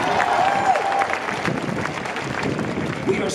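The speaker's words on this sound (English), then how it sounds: "Give him a round of applause, good save." A rally crowd applauds and cheers at a campaign event in Gainesville, Florida, a dense, sustained wash of clapping with a voice over it.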